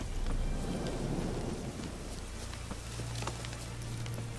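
Steady rain with low rumbling thunder in a Witcher 3: Wild Hunt Hearts of Stone game scene, a rolling rumble swelling early then settling into a continuous hiss of rainfall.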